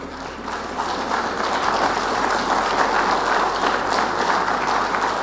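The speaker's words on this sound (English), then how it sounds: "Give a round of applause for choosing to be here." Seated audience at an indoor gathering gives a round of applause: even, sustained clapping from many hands, fairly close and filling the whole stretch without pause.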